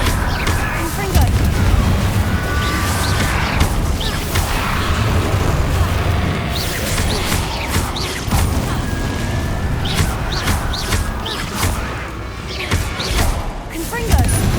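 Repeated Confringo fire spell blasts from the video game Hogwarts Legacy, a steady run of bursting booms and crashes over continuous battle noise, with a voice speaking throughout.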